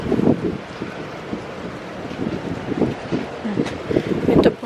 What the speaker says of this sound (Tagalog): ganyan po kalakas yung hangin